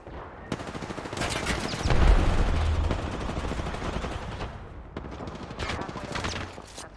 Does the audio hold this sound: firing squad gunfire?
yes